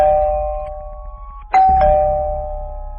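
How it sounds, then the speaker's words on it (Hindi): A house doorbell rings alone at night: a sustained electronic tone fades out slowly, then a second louder chime strikes and rings on, close and clear. "दरवाजे के पास आते ही गुल्ली घर की डोरबेल बजाता है"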